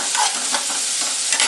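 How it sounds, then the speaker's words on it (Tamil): Chopped tomatoes sizzle and soften in a hot pan for a roasted brinjal chutney, a steady close frying hiss with a few soft stirring scrapes and no talk. "அதுக்குள்ளே இந்த சைடு வந்து தக்காளி வணங்கிட்டு இருக்கு"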